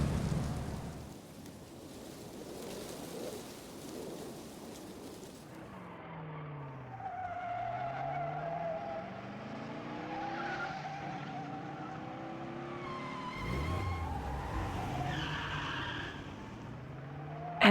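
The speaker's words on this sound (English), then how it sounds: "Tires squealed, struggling to grip the rain-slick asphalt." Race car tires squeal and skid on rain-slick asphalt in the racing game Over the Alps, long sliding tonal squeals rising and falling over a low engine and rain hiss, with sharper skids near the end.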